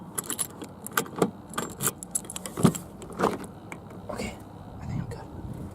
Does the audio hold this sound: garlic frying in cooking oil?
no